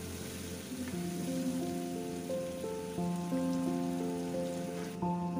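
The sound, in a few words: frozen peas sizzling while being stirred and sautéed in a pan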